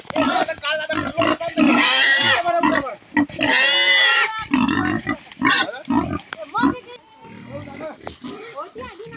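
A pig on a farm grunts and squeals loudly and close up in repeated bursts, with people talking in between the calls.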